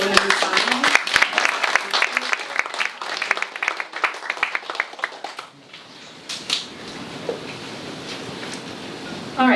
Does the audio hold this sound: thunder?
no